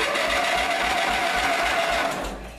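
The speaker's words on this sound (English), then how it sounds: "it still cranks this little motor up no problem" A small motor on a Derby mower from Bridgeport, Illinois runs with a steady, close whirring hum for about two seconds, then tapers off at the end.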